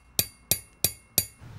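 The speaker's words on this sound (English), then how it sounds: "I'm going to punch a few divots into the copper" Four sharp metallic taps ring out at an even pace, each a crisp punch strike making divots in copper, with a brief bright ring.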